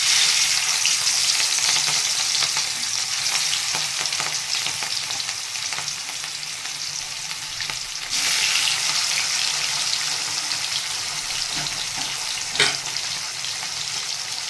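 Fish frying in oil in a wok, giving a steady, loud sizzle throughout with occasional stirring clatter and no talking.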